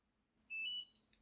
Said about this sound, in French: l'appareil vient de clignoter et émettre un bip sonore